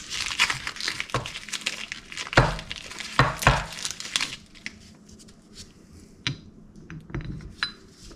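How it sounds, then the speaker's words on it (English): New brake pads slide into the brake caliper of a Honda CRF150R dirt bike, making close, sharp metallic clinks, scrapes and rattles in irregular bursts, with quieter ticks near the end. "slide in our new brake pads here"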